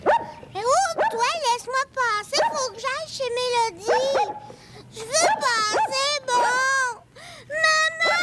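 Dog barking in a 1979 children's television episode: a loud, close run of high, yappy barks and yelps comes in quick bursts with short pauses, some drawn out like whines.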